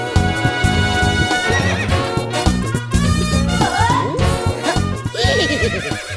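A horse neighs in loud, drawn-out whinnies while hooves clip-clop beneath, set within a comedy film scene with dense layered sound and a busy backdrop.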